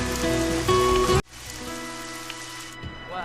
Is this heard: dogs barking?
no